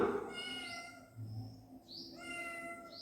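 A cat meows several times, faint and somewhat distant, with rising and falling calls separated by short pauses over a low background hum.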